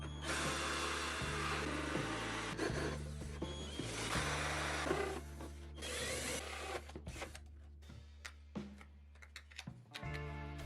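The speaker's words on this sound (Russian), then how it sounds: "Далее берем коронку на 64 мм. Она у меня самая большая в наборе. И делаем отверстие в ведре" A power drill fitted with a 64 mm hole saw cuts through a plastic bucket, giving a loud, continuous grinding whir that changes pitch as the bit bites. It ends in scattered clicks and knocks.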